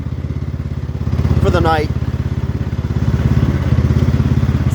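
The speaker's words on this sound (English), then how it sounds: "in my backyard, driving my tractor" A X T1 enduro series garden tractor engine chugs steadily as it is driven around a backyard at night, a close, even mid-pitched putter with a brief rattling bump, while someone talks over it.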